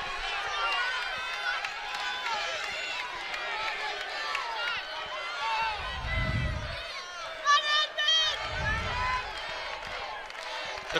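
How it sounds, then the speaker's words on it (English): Crowd at a Big Ten college wrestling match, Nebraska at Illinois, a sustained roar of cheering and shouting that swells, with a commentator's voice talking over it. "The crowd really getting loud here."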